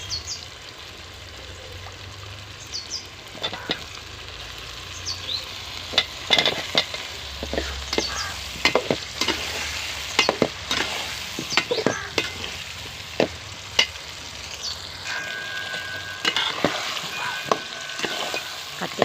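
Tomato and brinjal sauté with onion in a pan for a kuzhambu curry, stirred in repeated scraping, clanking strokes over a continuous close sizzle for a long stretch, with no talking.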